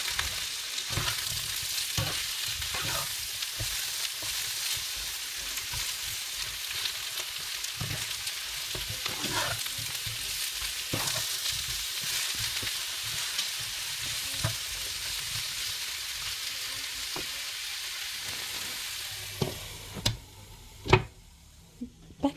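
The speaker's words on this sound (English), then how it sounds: "Then we'll give it a quick stir and cover with the lid." Eggplant and zucchini fry in a pan, giving a continuous sizzle broken by scraping stir strokes. Near the end come a few louder knocks and clatters, as of a lid going on.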